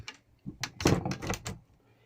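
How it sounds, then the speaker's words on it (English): The door of a Talbot Express Highlander camper van is shut, giving a short run of close clicks, knocks and rattles with one firmer thump in the middle, all over in under two seconds. "So we'll shut the door"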